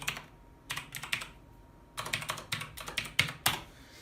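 Someone types a password on a Razer BlackWidow Chroma mechanical keyboard: close, crisp keystrokes in quick bursts separated by short pauses, with no other sound.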